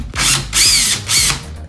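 A power drill backs out a screw on a bathtub spout in three short whirring bursts with brief pauses between, loud and close, the motor pitch rising as each burst spins up.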